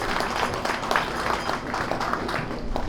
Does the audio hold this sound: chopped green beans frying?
no